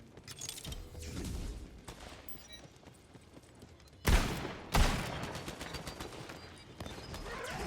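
Gunfire in the fantasy shooter Tiny Tina's Wonderlands: two loud, sharp blasts stand out over a busy game soundscape with scattered smaller shots and clatter, no voices.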